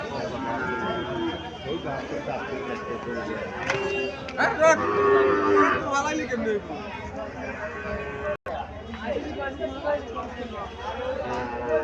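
Calf mooing at a livestock market in Chandimura bazaar, Barura, Cumilla, a few low bellowing calls amid bustling crowd chatter and nearby conversation.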